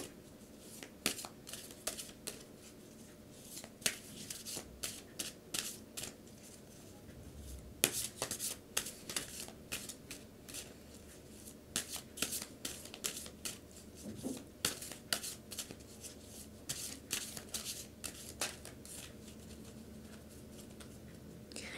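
Oversized tarot cards are shuffled in repeated quick bursts of papery riffling and flicking, close and soft, with short pauses between rounds and no talking.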